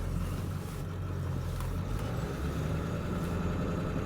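A 2001 Ford Excursion Limited, two-wheel drive with a 7.3L Powerstroke diesel, on the move: a steady, close, low engine rumble with road drone, unbroken for several seconds and with no talk.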